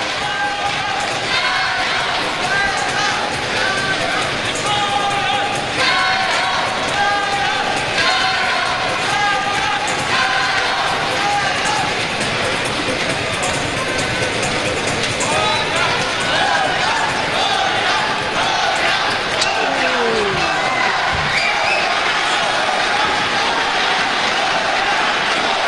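A packed badminton arena crowd at a 2009 World Championship mixed doubles match roars and cheers continuously, loud and dense throughout, with a commentator talking over it.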